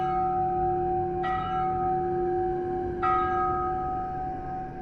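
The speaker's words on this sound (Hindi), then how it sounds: "घंटी की आवाज" Two loud church-style bell strikes ring out almost two seconds apart as a sound effect in a horror story. Each strike leaves a long, steady humming tone that hangs in the air.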